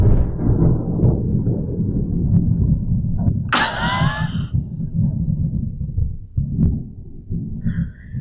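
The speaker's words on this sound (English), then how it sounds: "Filming in a thunderstorm is so much fun." Deep rolling thunder from a thunderstorm, a long low rumble that fills the background, with a brief bright crackling burst partway through and a faint high tone near the end.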